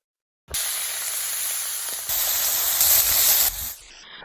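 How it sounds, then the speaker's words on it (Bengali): A sudden loud hiss as fish hit hot oil, a steady roaring sizzle that swells once more before dropping off abruptly. "তেল গরম হয়ে গেছে এবার আমি মাছগুলো ছেড়ে দিচ্ছি"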